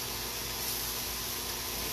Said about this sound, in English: I'm going to kick on this fan. Pardon the noise.